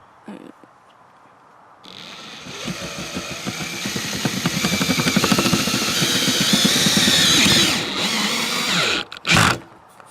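A power driver runs tapping screws into a height-adjustment piece resting on a cover, whirring and straining close up for several seconds as each screw bites, then stopping with a couple of sharp knocks.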